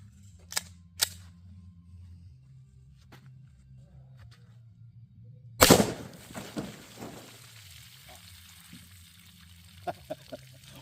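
A single sharp Glock 20 10mm pistol shot fires a hardcast bullet into stacked water jugs outdoors, a loud crack followed by splashing and rattling debris, with a few faint clicks before and after.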